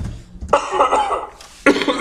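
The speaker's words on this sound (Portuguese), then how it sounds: "Também estou a tossir." Two separate coughs from one person, close and clear, with a short quiet gap between them.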